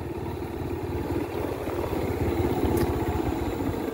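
A motorcycle engine on a rural dirt road chugs with a rapid, even low-pitched pulse, fairly close and steady for the whole stretch, with no speech.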